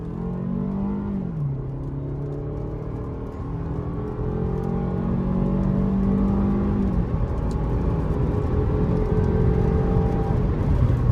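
A 2014 Toyota RAV4 LE accelerates at full throttle, its engine whirring and rising in pitch, dropping at a gear shift and then climbing again, growing steadily louder and close up.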